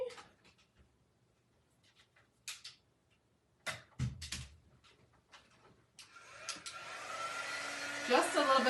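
A hair dryer blows on a fabric pillow cover to dry permanent ink, starting after some quiet rustling and handling sounds and building into a steady, loud airflow whine that runs through the final seconds.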